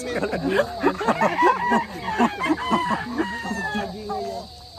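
Chickens on a farm cluck and crow loudly and close by, overlapping in a busy, continuous flurry of calls.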